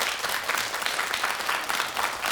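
Studio audience applause on a Korean morning talk show, thanking a Seoul National University medical professor: steady, moderately distant clapping from many hands, continuous without talk.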